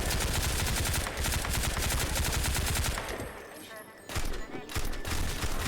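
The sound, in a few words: gunfire in a VR video game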